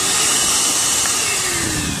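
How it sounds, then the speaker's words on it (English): A Hart shop vacuum runs in a steady, loud, continuous whooshing hiss with a constant motor drone, close by and alone. "Here's our vacuum that I bought yesterday. It's a Hart vacuum,"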